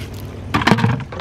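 Water poured from a container onto plants in a backyard garden in America, a short splashing gush starting midway and running to the end, moderately loud and close.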